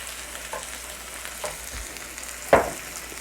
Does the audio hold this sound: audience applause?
no